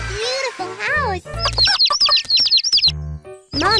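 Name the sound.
hen clucking in a children's video game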